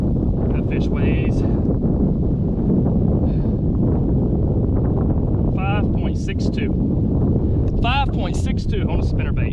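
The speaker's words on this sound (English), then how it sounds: "The wind is just blowing me like crazy." Strong wind gusts across a lake during fall bass fishing, buffeting the microphone in a constant loud roar while someone talks over it.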